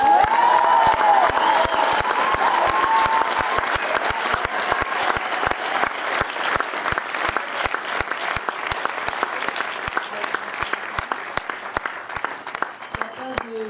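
An audience applauds poets at a French-language poetry gathering, with sustained dense clapping throughout that fades slightly toward the end, with a few faint voices mixed into the crowd.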